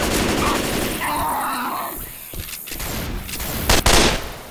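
Railgun fire in Left 4 Dead 2's Dark Carnival level rings out amid dense game combat noise, with a sharp loud burst near the end over a steady din of gunfire and effects.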